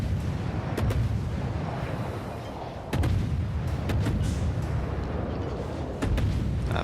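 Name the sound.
naval gunfire in World of Warships video game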